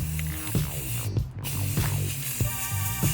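Spray can hissing steadily up close during a home DIY furniture project, in several short bursts separated by faint rattles and clicks, with no talk.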